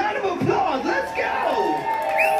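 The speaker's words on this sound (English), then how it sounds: "let's give yourself a round of applause. Let's go!" A loud rock concert crowd at The Lime in Kirkland cheers and whoops, with voices yelling over one another in a continuous roar.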